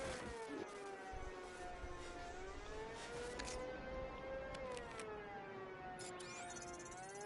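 A police car siren in the video game Batman: Arkham Knight wails continuously in rising and falling sweeps, loud and alone, with a brief extra tone near the end.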